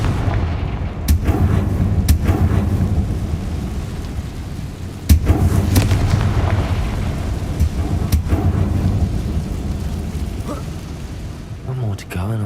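Confringo fire spell in Hogwarts Legacy, several loud booming blasts spaced a few seconds apart over a rumbling, crackling background, one especially sharp hit near the middle.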